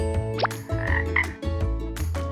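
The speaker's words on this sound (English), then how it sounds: "Frog." A frog croaks loudly and close in a series of deep, rhythmic calls with brief pauses between them, alone with no talking, in a miniature cooking setting.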